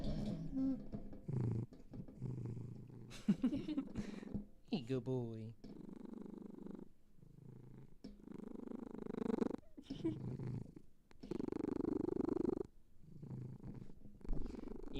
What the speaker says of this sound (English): He's purring right now.